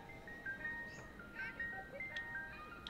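An ice cream truck in the Ice Scream horror game plays its chiming jingle, a faint melodic tune of bright sustained notes drifting from a distance over low background hum.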